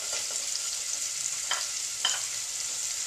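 Onions, carrots and celery cook in a pan with a soft, even sizzle and a few light stirring clicks, fairly quiet and without voices.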